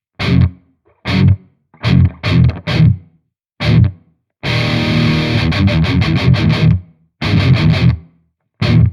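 Heavily distorted electric guitar through a noise gate in Amplitube 4 plays choppy metal chords that cut off abruptly into dead silence between hits, with one longer sustained stretch of fuzzy, gritty tone.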